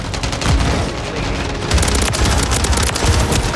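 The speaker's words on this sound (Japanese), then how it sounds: "爆発の中いるね" Dense, continuous battle noise from the shooter game Call of Duty: Modern Warfare 3, with rapid gunfire bursts and deep explosion booms layered throughout, loud and close with no pause.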